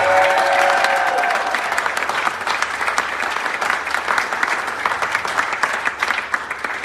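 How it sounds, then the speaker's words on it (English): Sustained applause from a live crowd at a community music gathering, thanking volunteers; dense steady clapping throughout, loud and close with faint whoops and no talk. "We need to give a huge round of applause for all of our volunteers that came out to make this happen."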